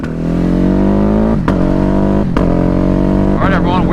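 A 2021 Ducati 950 Hypermotard with a BT Moto flash tune accelerates on the road, its loud, close engine climbing steadily through the gears with brief dips at shifts and wind noise throughout.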